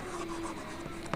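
Marker or chalk writing on a board during a Hindi-language English grammar lesson, a continuous faint scratching stroke with a brief sharper tap near the end, no voice.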